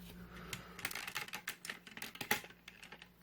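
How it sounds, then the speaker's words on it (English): Plastic legs of a Cybertron Metroplex transforming toy robot being ratcheted outward, a run of sharp, close clicks arriving in quick irregular bursts, with no voices. "I like to ratchet them out one click each."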